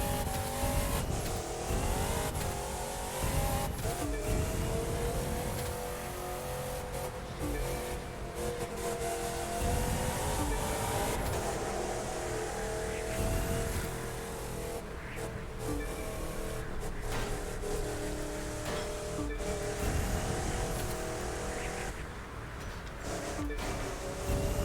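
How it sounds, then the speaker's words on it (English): A race car in The Crew 2, driven on a Summit event, revs steadily under constant throttle for the whole stretch, its engine note rising and falling through the gears with occasional tire squeal, loud and up close with no talk. "Playing around with your throttle a little bit to keep the RPM going"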